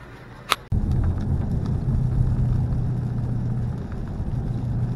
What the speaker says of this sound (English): So you can hear my car.